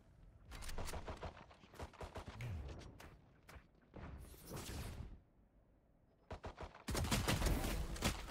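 Gunfire in a Valorant PvP match, sharp bursts and single cracks in uneven clusters separated by quiet gaps, ending in a loud dense volley.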